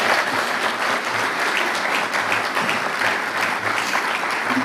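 An audience at the 2017 City of Edmonds State of the City address gives a sustained round of applause, thick continuous clapping at even loudness from start to finish.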